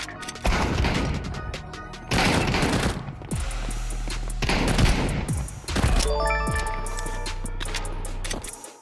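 Rapid bursts of automatic fire from the CZ75 full-auto pistol in Counter-Strike 2, several loud staccato volleys separated by short pauses, with metallic reload clicks and a low hum in between.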